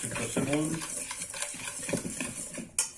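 Icing sugar, ground almond and flour are stirred together in a bowl with a spoon, giving soft scraping and light clinks, while a voice speaks briefly near the start and a sharp tap lands near the end.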